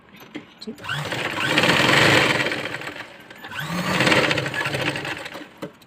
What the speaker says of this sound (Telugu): ఇలా సూది కిందికి పెట్టి ఎప్పటికైనా ఇలా పెట్టి స్టిచ్ చేసుకోండి